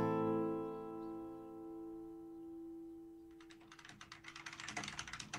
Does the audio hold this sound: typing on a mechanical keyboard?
yes